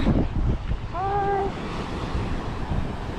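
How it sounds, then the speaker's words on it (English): Large ocean waves wash and break along the rocky Arran coast, a steady broad roar buffeted by wind noise on the microphone, with a brief whistling tone partway through. "The waves are pretty big."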